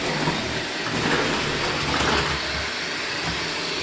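A Shark Lift Away vacuum cleaner runs steadily upstairs in a house, giving a continuous loud whirring roar with broadband hiss that holds level throughout, no voices.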